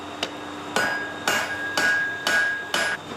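A hammer strikes the bent-down edge of a flat iron bar for an antique door, five or six loud, ringing metallic blows spaced about half a second apart at close range, with no talk.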